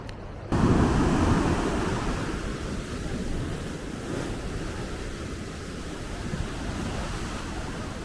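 Ocean surf on the Portuguese coast rolls in as a steady, broad wash of breaking waves, mixed with wind buffeting the microphone, loud and continuous with no speech.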